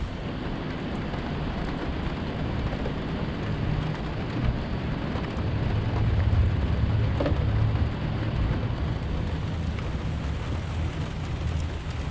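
Heavy rain pours in a steady, dense roar with no breaks, close and loud, falling outdoors beside a 2002 Toyota Camry under repair.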